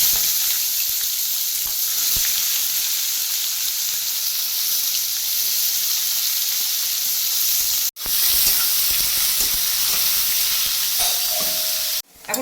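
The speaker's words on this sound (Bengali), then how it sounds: "পেঁয়াজটা ভাজা হয়ে গেছে একটু নরম ভাজা করলাম" Onions fry in hot oil with whole garam masala and bay leaves in a wok, giving a loud, steady sizzle that runs unbroken, with a brief cut near the end and no talking.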